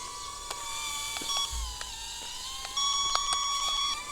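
A TKKJ Skytech M70 toy quadcopter drone with a safety cage gives off a steady chain of high electronic beeps and chirps, close by, repeating at an uneven pace over a faint mechanical whir with no talking.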